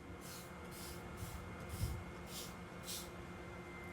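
A spray bottle mists a light pretreatment coat before DTG printing on an xTool O1 Omni UV printer, giving about five short, soft, evenly spaced hissing spritzes in a quiet room.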